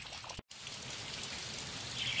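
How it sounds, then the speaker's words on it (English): Rain pattering steadily on a Smittybilt Overlander roof top tent, a dense soft hiss of drops heard close, with one brief dropout partway through. "it's still raining. So the tent's getting a good soaking on the outside."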